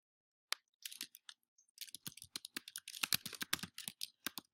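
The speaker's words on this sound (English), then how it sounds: "If it's a written journal, you'll type right here." Typing on a computer keyboard, heard up close as quiet, quick, irregular clicks and taps that start in sparse bursts and then grow denser, with silence between keystrokes.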